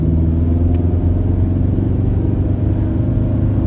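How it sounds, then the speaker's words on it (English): A 2027 Kia Telluride with a turbocharged four-cylinder engine hums in a low, steady drone from inside the cabin while driving, mixed with road rumble and no talking. "I will say this is one of the quieter turbo 4-cylinders"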